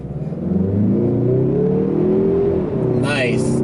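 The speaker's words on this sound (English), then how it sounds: "let's do an acceleration from the stop" A 2021 Mazda 3 Turbo AWD pulls away from a stop on an uphill grade, its engine droning and climbing steadily in pitch as it accelerates. The sound is heard close from inside the cabin, and a brief whoosh near the end follows.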